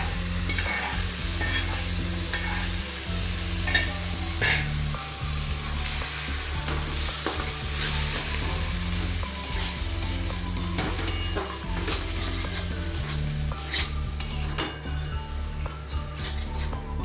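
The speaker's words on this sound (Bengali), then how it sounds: "কড়াইয়ের উপর সেদ্ধ করে রাখা তরকার ডালটা দিয়ে দেবো।" Boiled tarka dal hits a hot kadai and is stirred, a continuous sizzle and fry with repeated scraping strokes of a spoon, close and steady throughout with no talk.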